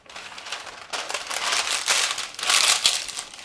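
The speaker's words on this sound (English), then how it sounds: "we're going to take an 8x8-inch metal baking pan, and we're going to line it with parchment" Parchment paper crinkling and rustling in close, uneven bursts as it is pressed into an 8x8-inch metal baking pan, no voices.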